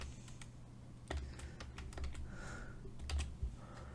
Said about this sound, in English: I'll just type student here, as this is student work